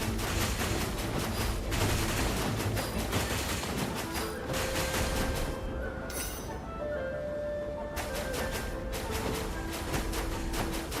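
Rapid shooting from a spaceship in a Genshin Impact arcade mini-game, bursts of quick electronic shots with short pauses and chiming tones, mostly steady and fairly loud.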